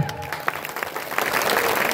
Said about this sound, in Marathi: छान टाळ्या